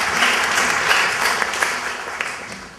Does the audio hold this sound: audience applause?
yes